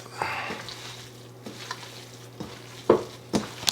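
Arais meat and spice mixture with fresh lime juice being mixed by hand in a bowl: soft squelching and scraping strokes, a few sharper knocks near the end, over a low steady hum.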